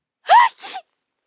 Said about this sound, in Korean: 이내 재채기가 나왔습니다.